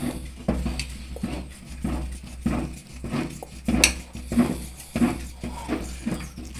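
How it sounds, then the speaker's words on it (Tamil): A spoon scrapes and knocks against a pot while thick rice flour porridge for kanji vadam is stirred, giving a steady run of close, rhythmic scraping strokes with no talking. "கிண்டிகிட்டே இருங்க அடி பிடிக்காமல் கிண்டிகிட்டே இருக்கணும்"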